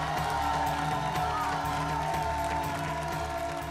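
Studio audience on a singing competition show clapping and cheering to welcome judge Ravi Kishan, a dense, steady wash of applause and whoops under continuous stage music with a pulsing beat.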